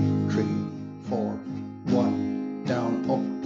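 Slow acoustic guitar strumming of barre chords, four bright strums spaced roughly evenly with ringing sustain between them, close and fairly loud with no talking.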